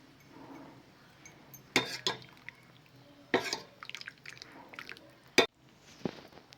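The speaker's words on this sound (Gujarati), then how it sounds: "લીંબુનો રસ એડ કરીશું" Lemon juice squeezed and dripping into a pot of moringa drumstick soup, a few soft splashes and drips with light clinks of a utensil, close and quiet with no talking.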